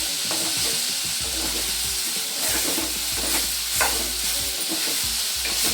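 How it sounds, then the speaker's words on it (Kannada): Soya chunks frying in oil for soya chilly, with a steady close sizzle and repeated scraping strokes as they are stirred in the pan, no voice. "ಇದು ಚೆನ್ನಾಗಿ ಫ್ರೈ ಆಗಲಿ ಆಯಿಲಲ್ಲಿ."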